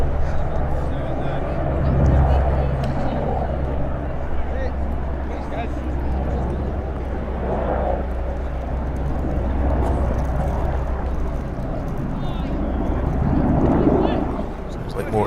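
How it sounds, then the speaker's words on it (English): Aircraft engine drones overhead above an outdoor lawn bowls green during a Scottish national championship match, a steady low rumble swelling and easing for several seconds while voices murmur nearby. "Sounds like more aircraft going overhead."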